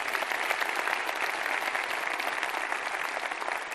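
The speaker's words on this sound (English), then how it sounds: "How about a round of applause for the great work that they do?" A steady, even wash of crowd applause from an audience at the Peace Center in Greenville County, continuing without a break at moderate loudness for the whole stretch.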